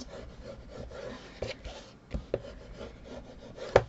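A Teflon bone tool rubs along paper creases, burnishing them flat, a soft steady scraping with a few sharper taps and clicks near the end, quiet and close, no voices.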